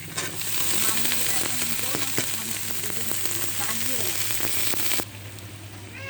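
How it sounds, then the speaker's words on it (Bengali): Potato and cabbage hit hot oil in a pan with chickpeas, giving a loud, steady sizzle with scattered pops and crackles that drops off sharply near the end. "এবার আলু আর বাঁধাকপি দিয়ে দেবো।"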